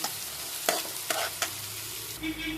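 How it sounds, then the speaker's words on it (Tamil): Chopped onions frying in a pan for tuna puttu, a soft steady sizzle broken by a few scraping stirs of a spoon, close and quiet with no talk. "வெங்காயம் கட் பண்ணி வச்சுருக்க வெங்காயம் ஆட் பண்ணிக்கலாம். வெங்காயம் நல்லா வணங்கட்டும்."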